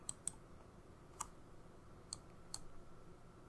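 Sharp, faint computer mouse clicks ring out while settings are opened in Sage 50cloud accounting software: a quick double tap, then three single clicks spaced out over a quiet room hum.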